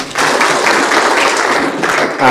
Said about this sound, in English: A round of applause for KEFSA.